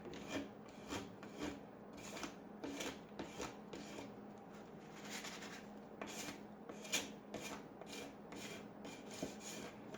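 Hand sanding of thrift store furniture edges to distress the finish: repeated rhythmic rasping strokes of abrasive on wood, close and steady, with no talk.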